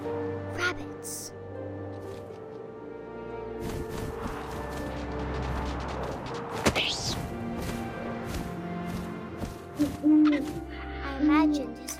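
An owl hooting in the game What Remains of Edith Finch, low soft hoots over wind and ambient music, with a few thuds and a sudden whoosh partway through.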